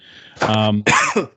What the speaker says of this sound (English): I know it was a cough.